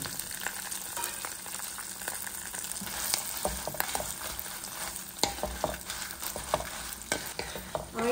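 Dried chilies and curry leaves fry in hot oil in a pan for a temple-style ash gourd curry, with a steady low sizzle and occasional stirring scrapes and pops, fairly quiet and close.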